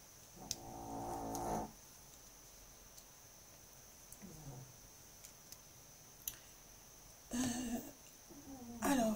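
A cat snores softly in a quiet room, with a few separate rumbling breaths spaced apart and faint ticking in between.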